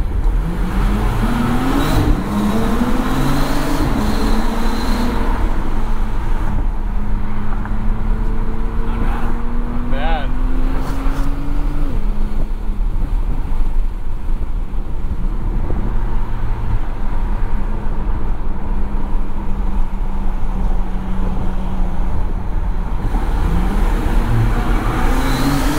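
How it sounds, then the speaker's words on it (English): A Bentley W12 engine revs hard after a downshift, its pitch sweeping upward and then settling, loud and close over steady road roar. Voices talk in the cabin now and then. "Downshift."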